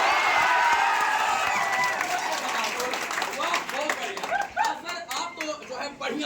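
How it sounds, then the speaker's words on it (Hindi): Loud applause from an audience: dense clapping that thins toward the end into scattered, separate claps, with cheering voices mixed in. "आपको जोरदार ताली बजाना होगा।"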